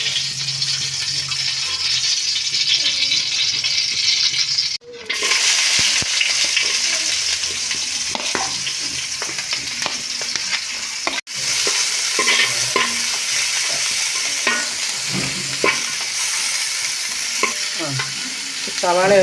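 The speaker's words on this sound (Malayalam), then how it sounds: "സവാളയൊന്ന് ബ്രൗൺ നിറമാവുന്നത് വരെ നമുക്കൊന്ന് ഇളക്കി കൊടുക്കാം" Onions frying in ghee in a biriyani pot, stirred steadily with a spoon, giving a continuous close sizzle with scraping stirs and a couple of brief breaks, no talking.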